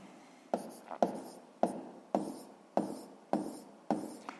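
Pen strokes scratch across paper while working a seventh-grade physics exercise, arriving as about eight sharp, evenly spaced scribbles with short pauses between them, close and fairly quiet.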